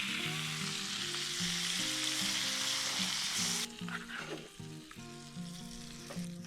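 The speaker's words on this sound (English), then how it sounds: "I think it's time to add our tomatoes to the mix" Tomatoes fry in oil with cloves and garlic for an Indian dish cooked at a motorcycle campsite. A loud, steady sizzle drops to softer, uneven crackling and stirring partway through, with a musical tone underneath.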